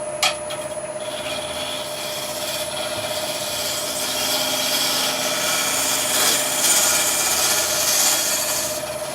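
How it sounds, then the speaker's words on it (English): A bowl gouge cuts spinning wood on a lathe while refining a bowl shape, giving a continuous whirring scrape with a steady motor hum that swells louder partway through, close and with no talk. "let's go for a slightly smaller bowl gouge. I'm just going to refine that shape. I'll push the bevel around."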